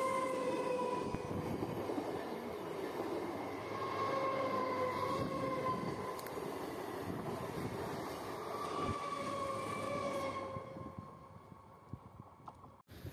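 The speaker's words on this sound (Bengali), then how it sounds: "ওদিকে আবার সামনের স্টেশন থেকে ট্রেনও ছেড়েছে" A train pulling out of a nearby station, a continuous rumbling rail roar with a long tonal horn-like whine running steadily, moderately loud and fading toward the end, with no talk.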